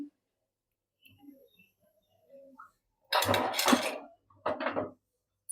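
A pan set down on a home kitchen stove while preparing potato filling for samosas: a couple of brief, close metallic knocks and clatters, fairly loud against an otherwise quiet room, with no talk.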